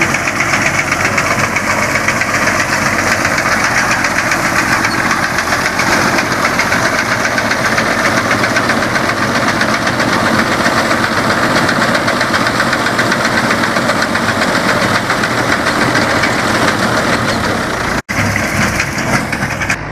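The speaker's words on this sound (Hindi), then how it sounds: "जो कि ट्रैक्टर से फिट होती है मशीन, तो उससे कटाई है।" A tractor-mounted wheat harvesting machine's engine runs loud and close for the whole stretch, a steady, dense mechanical drone with knocking vibration, heard alone with no talk.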